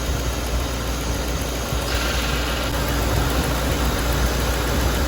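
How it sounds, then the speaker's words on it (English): A car engine runs while its AC compressor clutch cycles on and off, making a loud, steady idling drone with a slight shift in tone partway through. "This compressor cutting on and off, it cuts on and off for more than one reason."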